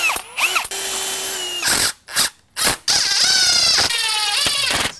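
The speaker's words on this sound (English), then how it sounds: "I want to line the first hole up from the top and then pre-drill the rest of them." A power drill pre-drilling screw holes while installing a storm door whirs in several close, loud bursts, revving up and stopping with brief pauses between, its pitch shifting as it bites into material.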